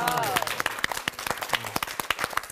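Students in a Bible study class break into a short burst of applause, lively and uneven, with a voice talking over the start of the clapping.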